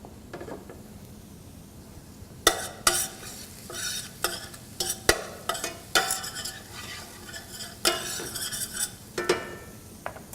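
Garlic sizzling in a pan, with a soft frying hiss under repeated sharp clacks of a utensil stirring and scraping, close and moderately loud.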